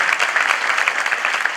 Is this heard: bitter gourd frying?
no